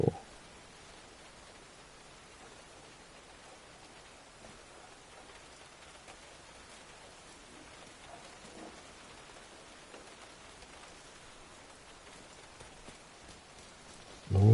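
Steady rainfall in The Division 2, a continuous soft hiss of rain on surfaces filling the scene evenly at a low, even level with no voices.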